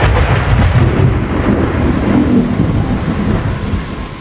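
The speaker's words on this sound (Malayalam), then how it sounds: "ഇടിയും വെട്ടുന്നുണ്ട്" Heavy rain pours steadily while low thunder rumbles beneath it, a loud, unbroken stormy roar with faint swells of wind and no talking.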